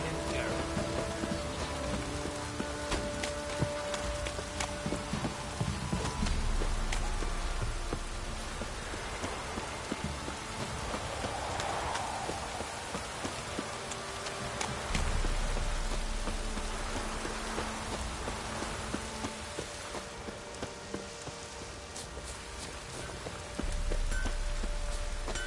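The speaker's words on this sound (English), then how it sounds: "Rain." Steady rain patters in a wet outdoor scene from The Witcher 3, a continuous hiss of drops on surfaces under faint game ambience, with a light clop of hooves at moments.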